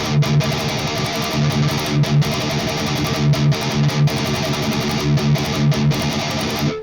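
Electric guitar played through free amp-simulation plugins from Ignite Amps, giving a dense, driven tone with a steady strummed rhythm and repeated chord hits, loud and close throughout with no talking.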